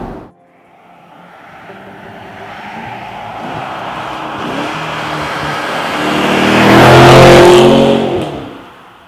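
A 2014 Porsche Cayenne GTS accelerates hard on a twisty German country road, its engine note rising in a loud, sustained roar that swells toward a peak before easing off, heard up close with no talking.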